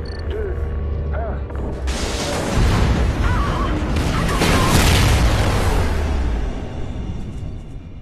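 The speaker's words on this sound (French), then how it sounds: "Explosion." An explosion in the Call of Duty: Ghosts video game, a deep booming roar swelling over a few seconds amid rumbling mechanical noise and a background voice.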